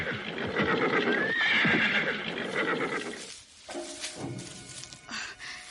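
A tired horse whinnies loudly and close, its hooves clip-clopping in an uneven rhythm beneath the neigh, which fades into quieter steps and thuds.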